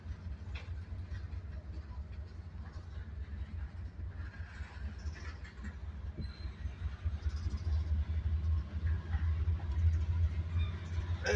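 A freight train rolls into a rail yard at a distance, a low continuous rumble that grows slowly louder toward the end, with faint clanks over it.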